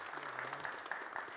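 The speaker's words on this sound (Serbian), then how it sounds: "Zamolit ću vas za jedan aplauz za gospodina Simovića." Audience clapping for a speaker at a tech conference on a state data centre in Kragujevac, short, soft, steady applause heard from a distance.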